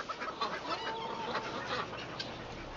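Farm fowl, ducks kept alongside chickens in a winter yard, cluck and chatter steadily at close range with overlapping calls and no talking.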